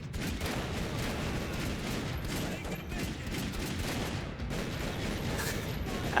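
Dense, continuous gunfire in Max Payne 3, a steady wash of rapid shots and clatter that hardly lets up for the whole stretch, loud and close, with faint game sounds mixed underneath.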